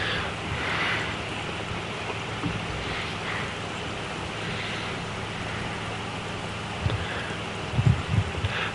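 Rain falls in the Farming Simulator 25 video game, a steady soft hiss of rainfall with a few low thumps near the end and no talking.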